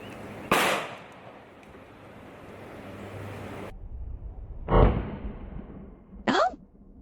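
A Hi-Point handgun with its barrel coated in Flex Seal fires one sharp, loud shot outdoors, followed a moment later by a second brief sharp bang, with wind noise between.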